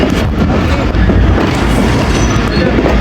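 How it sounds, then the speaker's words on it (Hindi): Rehman Baba Express passenger train on the Rawalpindi to Faisalabad route rolling through Dina railway station without stopping, heard from on board as a loud, continuous rumble with rhythmic wheel clatter and faint squeal. "तो दोस्तों दीना रेलवे स्टेशन से पास हो रही है ट्रेन हमारी"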